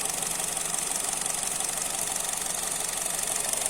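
A used Honda Jazz engine idles steadily and smoothly, a continuous close mechanical whir with even, fine ticking and no talking.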